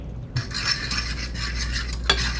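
Shredded parmesan being stirred into a small two-serving alfredo sauce for shrimp pasta, a steady soft scraping swirl in the pan with a faint clink near the end, no talking.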